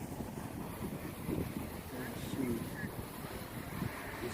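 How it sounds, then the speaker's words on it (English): Gusty wind rumbles and buffets a microphone outdoors while a Hubsan H501S drone flies, steady and fairly loud with faint distant tones underneath. "It's really windy out here too."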